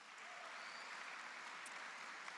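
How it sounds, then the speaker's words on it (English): Audience at an engineering graduates' recognition ceremony applauding support staff, a steady wash of many hands clapping from a distance, fairly faint and continuous throughout. "Let's give them a round of applause."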